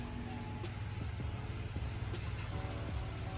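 Chicken pieces frying in hot, bubbling oil give off a continuous sizzling hiss with scattered pops and crackles, steady and close throughout.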